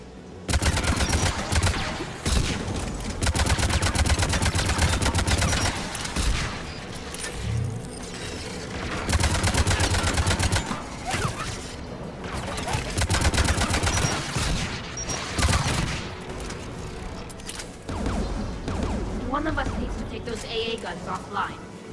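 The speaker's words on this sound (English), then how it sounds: "AA guns ahead." Anti-aircraft gunfire in the Mass Effect 3 game, sustained bursts of heavy rapid fire with distant booms, rising and falling across the scene, mixed under voices talking.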